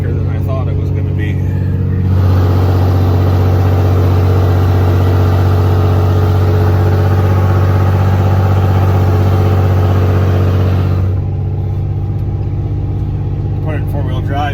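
A truck's engine laboring steadily in four-wheel drive on a soft, dry dirt road, a loud continuous low rumble that swells and holds for several seconds before easing back.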